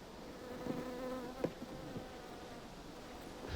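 Honeybees escaping a beekeeper's colonies in Utah, a steady buzzing hum of many insects with a few louder passes close by, no voices.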